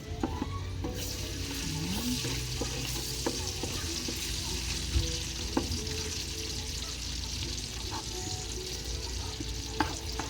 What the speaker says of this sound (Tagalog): dito natin igigisa yung atin pong sibuyas, bawang, at saka yung luya